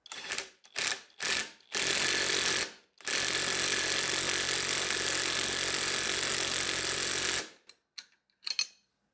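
An Uaoaii IW800 brushless cordless impact gun running forward on level 3: several short bursts of loud rattling hammering, then a long sustained hammering run of about six seconds, followed by brief trigger blips, close and alone.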